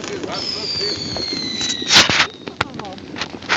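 Firecrackers go off at a New Year's Eve celebration as sharp, loud cracks and pops, one strong burst mid-clip among other bangs and a whistling rocket, with people talking around them.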